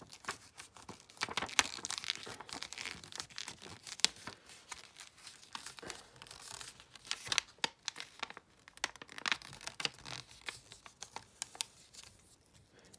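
Paper or similar sheet material rolled up by hand into a cannon barrel, with continuous close crinkling and rustling and occasional sharper crackles, no talking.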